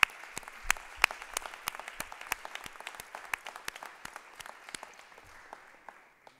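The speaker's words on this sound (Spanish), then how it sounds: "Uma salva de palmas para eles." Audience applause for journalism students from a university television station at a conference closing ceremony, with sparse individual claps standing out at first and then thinning and fading toward the end.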